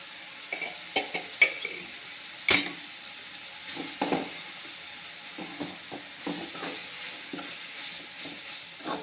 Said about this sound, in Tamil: நல்லா தக்காளி வதங்கணும்.